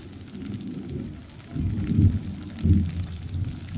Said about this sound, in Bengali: বন্ধুরা শুনতে পাচ্ছেন তো, আকাশ প্রচণ্ড ডাকছে